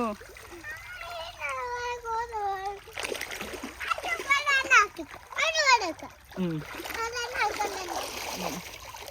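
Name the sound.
child splashing water while paddling in a stream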